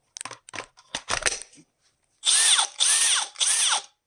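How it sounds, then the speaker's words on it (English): A cordless drill fitted with a CEENR universal battery, in place of a Makita pack, spins up in three loud bursts of whirring motor after a few clicks and handling noises. "let's go ahead and pop it into the drill and see if it works."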